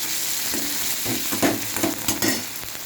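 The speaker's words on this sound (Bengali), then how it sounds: "এবার এগুলো সব একত্রিত করে আর একটু ভেজে নেব" Onion, tomato, ginger-garlic paste, chilli powder and turmeric fry together for prawn curry, sizzling steadily in a pan while a spoon stirs and scrapes through them in a few close, uneven strokes.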